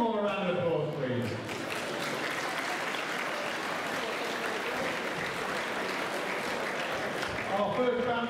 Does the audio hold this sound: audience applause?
yes